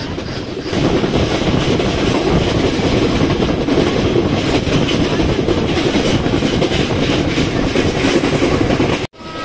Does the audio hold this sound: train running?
yes